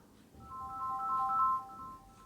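A phone's caller-name announcer ringtone plays quietly, a steady melodic electronic tone rising and fading over about two seconds, with no one talking over it.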